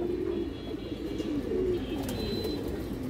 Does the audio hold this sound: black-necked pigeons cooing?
yes